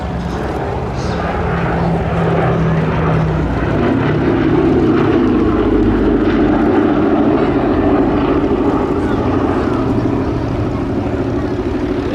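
Boeing B-17 Flying Fortress bomber at an air festival display, its four propeller engines a loud, continuous droning rumble that swells slightly as it passes, with faint voices underneath.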